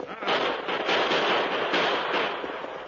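Dense, crackling bursts of rapid gunfire pop continuously for a few seconds in an old radio drama, loud and close, with no voices.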